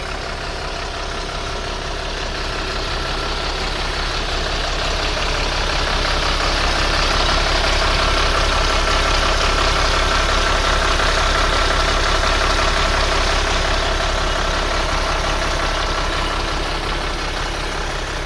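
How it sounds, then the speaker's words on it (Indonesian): A Golden Dragon coach bus engine idles steadily on a trip from Pekanbaru to Solo, a loud, continuous low rumble that swells slightly in the middle and holds alone without talk. "dengerin deh suara mesinnya nih. Jarang-jarang loh dengar suara mesin Golden Dragon."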